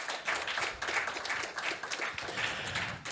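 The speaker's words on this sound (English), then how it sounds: "just going to ask you to click that applause button" A steady burst of applause, many hands clapping evenly at a moderate level without pause, sounding like a canned applause button effect on a comedy podcast.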